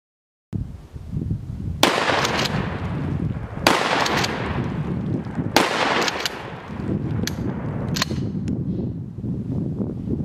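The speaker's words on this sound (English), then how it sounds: "So now a total of 4 rounds have been shot at that target" Gunshots fired at a cover target during a gunfight cover-deterioration demonstration, four sharp loud reports spaced about two seconds apart, each with a ringing decay, plus fainter cracks later, no talking.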